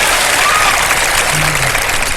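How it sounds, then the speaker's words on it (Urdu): Studio audience at a televised Ramadan sehri show applauding, a dense steady wash of clapping from many hands filling the whole moment without pause. "تالیاں بھی بجا دو اس کے اوپر یار"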